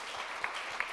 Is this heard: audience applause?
yes